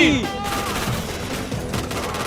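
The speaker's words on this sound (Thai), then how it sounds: "เจโบยิงอะไรวะนั่น" Rapid gunfire bursts in a PUBG esports match, several quick overlapping shots in the opening second followed by scattered cracks, all under excited Thai commentary.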